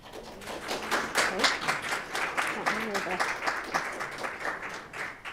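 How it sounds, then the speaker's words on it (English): An audience at a professional development session on trauma-informed practices applauds, a steady dense patter of many hands clapping at moderate distance that carries on for several seconds without letting up. "Let's give Stacey another round of applause"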